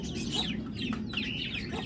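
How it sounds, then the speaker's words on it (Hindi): Ducks in a cage give soft clucking and chirpy calls, a few short squawks close by over a low background murmur. "ये दोनों डक्स हमारी अंदर चली गई हैं केज में"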